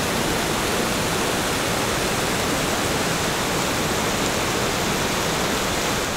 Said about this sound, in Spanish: todo lo que veis ahí detrás es un río que baja con mucha potencia, mucho caudal, y justo llega a un sumidero